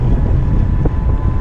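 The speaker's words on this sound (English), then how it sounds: "Got a pretty decent headwind." Steady headwind buffets the rider on a Sur Ron electric dirt bike with a BAC 4000 stock battery, a loud, continuous low rumble of rushing air across the whole stretch.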